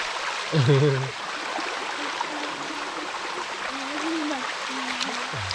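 Steady rushing water from a mountain stream and waterfall fills the scene, with people talking over it and a voice briefly rising near the start.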